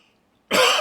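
A single sharp cough bursts out after a moment of near silence, close and loud.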